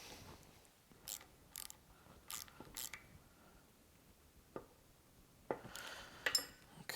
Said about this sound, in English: I'm gonna go ahead and thread this bleeder valve in